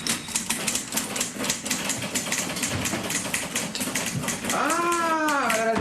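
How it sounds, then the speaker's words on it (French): Rapid typewriter keystrokes clatter in a fast steady rhythm, close and crisp, before a voice speaks over the end. "c'est malade que c'est beau de voir courir ça sur le clavier"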